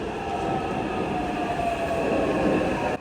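Taipei MRT subway train running steadily nearby, a loud continuous rumble with a sustained tonal whine, constant throughout before dropping off at the very end.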